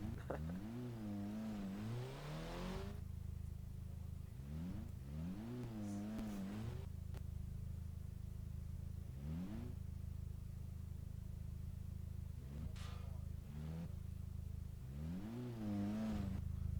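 GMC Cyclone truck in Garry's Mod, engine revving in repeated rising bursts with idle rumble between them, fairly quiet and without talk.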